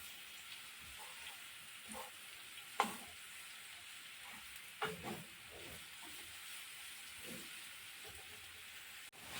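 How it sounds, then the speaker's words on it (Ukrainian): Fresh young carrots sizzle and stew quietly in a pan, a soft steady fizz broken by a few sharp clatters and scrapes of stirring. "І буквально пару хвилин морквочка свіженька, молода, вона довго тушкувати її не треба."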